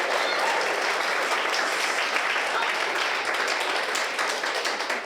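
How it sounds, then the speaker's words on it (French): A crowd applauds an elected candidate at a municipal election results event in Orbe, Switzerland, with dense, continuous clapping that stays loud and close for the whole stretch. "on peut l'applaudir s'il vous plaît"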